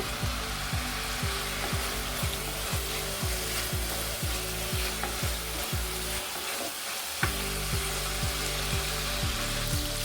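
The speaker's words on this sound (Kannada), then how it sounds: "ಸ್ವಲ್ಪ ಎಲ್ಲ ಹಸಿ ವಾಸನೆ ಹೋಗೋದು ಫ್ರೈ ಮಾಡ್ಕೊಳ್ಳೋಣ ಇದನ್ನು." Ground coriander, mint and spice paste fries in a pan for a vegetable basmati biryani, a steady close sizzle with rhythmic stirring scrapes throughout and one short pause near the middle.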